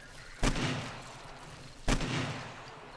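Two sharp, booming AK rifle shots ring out in the 7 Days to Die video game, spaced about a second and a half apart, each trailing off in a short echo over a quiet background.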